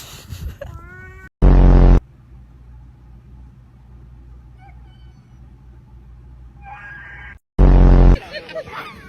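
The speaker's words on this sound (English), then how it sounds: "No, like you literally sound like a cat" A seagull gives drawn-out, cat-like mewing calls near the start and again near the end, separated by bursts of loud rumble and a low background hum.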